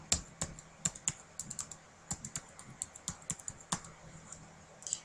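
Card digits tapped out on a computer keyboard, a quick irregular run of close, crisp key clicks with short pauses between bursts, alone with no talk.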